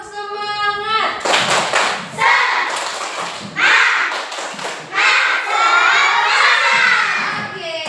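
A class of children does a spirited rhythmic clapping chant, bursts of claps and shouted voices in several loud phrases, close and lively in a classroom.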